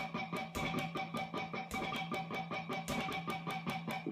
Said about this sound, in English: If I was to distill it down to just the rhythm, in other words take out the notes, it sounds like this.